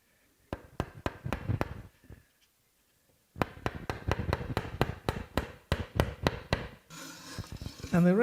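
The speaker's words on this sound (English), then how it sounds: "And the rest is just shaving." A paring chisel shaves wood while a mallet is being made: two runs of short, crisp cutting strokes in a quick even rhythm, close and moderately loud, separated by a brief pause.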